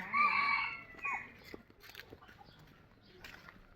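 A rooster crows loudly and close at the start, then chickens cluck in short bursts at a temple in Thailand, with low voices talking faintly in the background.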